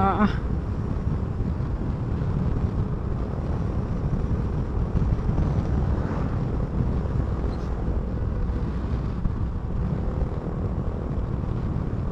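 Strong wind buffets a Yamaha Mio 125s scooter on a solo night ride along the Maharlika Highway, a steady, loud low rumble of wind and engine noise filling the whole stretch without letup.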